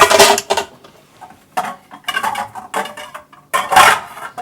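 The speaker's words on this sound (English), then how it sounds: "I'm getting another bowl" A kitchen bowl comes out and gets handled while cookie dough is made, with several loud close clatters and knocks in separate bursts and quiet gaps between.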